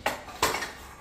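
Spoon stirring kadhi batter in a metal pot, two quick scraping clinks close by in a quiet kitchen.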